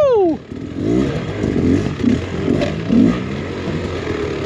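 A Beta X Trainer 300 enduro motorcycle rides over rocky bedrock on a hard enduro trail, its engine revving up and down up close with clattering and scraping from the rocks.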